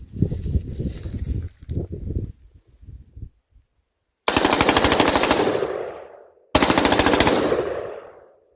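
Two rapid bursts of fully automatic-style fire ring out from an M4A1-style AR-15 fitted with a forced-reset trigger, loud and close, each lasting about two seconds, after earlier scattered shots and handling noise.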